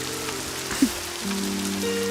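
Rain falls steadily through a night scene as a continuous soft hiss, with a brief thud partway through and sustained tones underneath.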